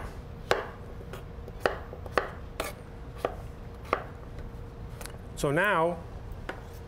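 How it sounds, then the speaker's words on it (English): A knife chops squash on a cutting board in sharp, evenly spaced knocks, about eight close taps, with a voice speaking briefly near the end. "Remember, always the flat side down so it doesn't roll around."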